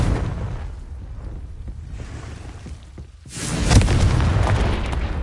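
Confringo blasting spell in the Hogwarts Legacy video game: a deep rumbling build, a short dip, then a loud booming explosion that swells and lingers with a roaring tail, no talking.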